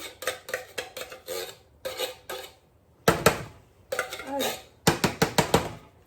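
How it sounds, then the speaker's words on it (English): Baked beans being tipped into a pan, with wet scraping and clinking of a utensil against metal in uneven bursts and short pauses, close by. "So we're gonna dump the beans in."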